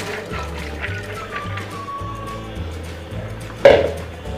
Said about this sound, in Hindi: ये जो हमारी भिगी हुई चने की दाल थी ये डाल देंगे